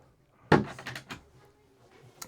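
A double locker door in the cabin of a Dale Classic 37 boat is pulled open with one sharp, close wooden knock and rattle, then a few softer knocks and creaks fade into quiet.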